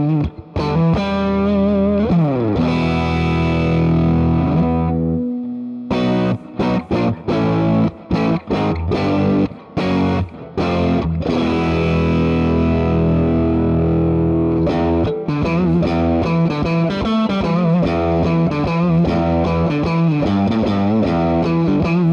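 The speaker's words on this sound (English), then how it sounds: "That's that Pog with the overdrive, super fun." An electric guitar runs through an octave POG pedal stacked with overdrive, giving a thick, distorted, organ-like tone with sustained chords, short choppy stabs around the middle, then ringing held notes, loud and close with no talking.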